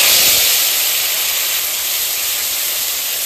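A paste of pointed gourd pulp hitting hot oil tempered with cumin seeds and asafoetida gives a loud, steady, close frying hiss that is strongest at the start and eases slightly, with no talking.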